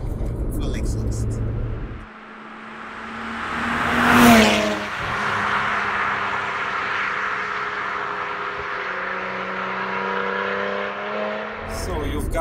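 A BMW 1M Coupe with the N54 engine and a straight-pipe exhaust drones at a steady idle, swelling briefly into a louder rev before settling back, close by, with people talking around it.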